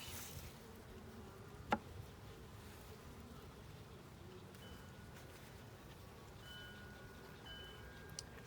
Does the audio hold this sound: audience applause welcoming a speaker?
no